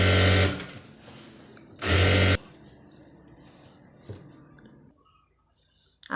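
A sewing machine runs a double line of stitching on a dress made from an old saree, two loud bursts of rapid mechanical whirring separated by quiet handling noises and soft fabric rustle.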